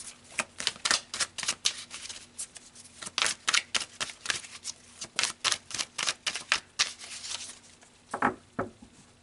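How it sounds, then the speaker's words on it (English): Tarot cards shuffled by hand in a rapid run of crisp, riffling flicks, close and steady for several seconds, ending with a couple of sharper taps as the deck is squared. "let's pull some more cards"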